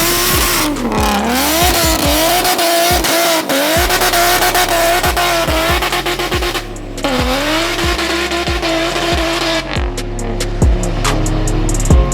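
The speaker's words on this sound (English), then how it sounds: "doing a little birthday burnout" A BMW 135i does a burnout in snow, its engine revving hard in repeated surges and drops while the tires squeal loudly and continuously, close by and alone.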